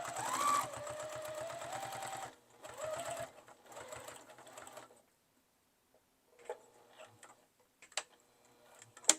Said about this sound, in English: Now I am going to top stitch from here across to the other side.